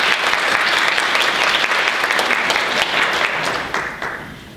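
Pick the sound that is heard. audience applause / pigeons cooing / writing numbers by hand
audience applause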